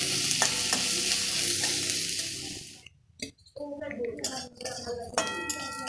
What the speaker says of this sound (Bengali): পেঁয়াজগুলোকে একটু ভেজে নিয়েছি